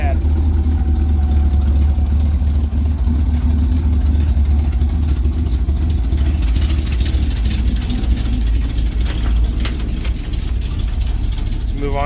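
A shop vehicle engine idles steadily right after starting, a loud continuous low rumble with a constant drone throughout, with voices talking over it.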